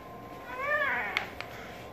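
A cat meows with a rising and falling call lasting about half a second, close to the listener and fairly clear, followed by a couple of faint clicks.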